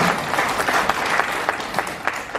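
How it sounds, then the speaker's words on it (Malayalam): An audience at a direct-selling business training session in Kerala claps together, a brief burst of brisk, overlapping applause with a few sharper claps rising above the wash. "നല്ലൊരു കയ്യടിയോടുകൂടി നമുക്ക് അതിനെ സ്വീകരിക്കാം."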